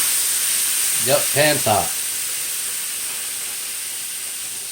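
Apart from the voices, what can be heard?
London broil searing in a nonstick pan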